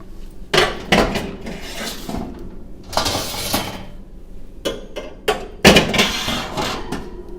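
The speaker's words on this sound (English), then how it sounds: "So you'll take out your trays" Metal trays and wire grids clank and scrape as they are lifted out of a Rational SCC combi oven, a series of loud, irregular metallic knocks and rattles close by.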